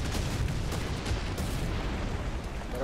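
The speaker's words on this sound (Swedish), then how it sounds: "Det är fina skickartilleri på oss." Artillery fire from War Thunder falls around a tank as a constant heavy rumble, with booms and cracks running into one another and no clear break between them.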